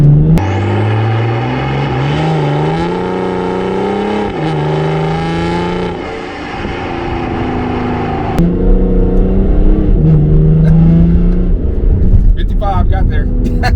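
A BMW E70 X5 diesel pulls hard under acceleration, its low engine drone rising steadily in pitch, dipping briefly at a shift, then climbing again; the sound stays close and loud throughout.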